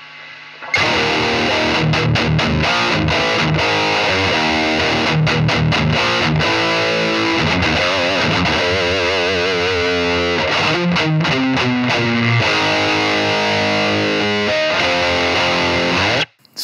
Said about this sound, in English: And if you add the overdrive,